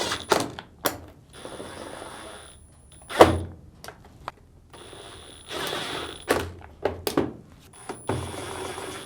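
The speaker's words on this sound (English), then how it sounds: "Now reinstall the 6 Phillips screws." Screws being driven back into the back cover of a Samsung washing machine, heard as scattered close mechanical clicks, ratcheting bursts and a few heavier thunks in separate groups with quiet gaps between.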